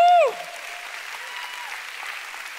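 A church congregation claps in a continuous, even wash of applause after a brief loud whoop at the start, with voices faint underneath.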